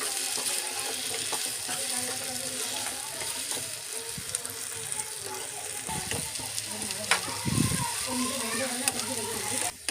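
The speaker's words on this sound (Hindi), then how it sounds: "इस खजूर को इस घी में हमें अच्छे से भुनना है।" Dates roasting in ghee in a pan give a loud, continuous sizzle close up, broken by scraping and pressing stir sounds and a few louder clunks. A voice speaks over the frying now and then.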